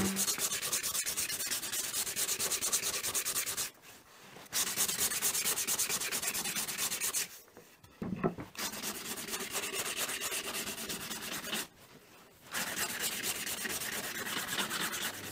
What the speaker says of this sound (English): final job on the cake stands, cheese board stands, is the sanding, 120 grit all over, then 180 grit all over